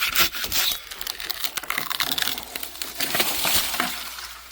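Cutting a branch off an old neglected tree, with dense rough rasping and cracking wood sounds running steadily throughout, close and fairly loud, with no talking.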